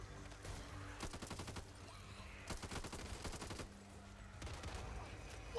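Gunfire in the video game Metal Gear Solid: Peace Walker, several rapid automatic bursts of sharp repeated shots separated by quieter stretches, fairly faint over a steady background.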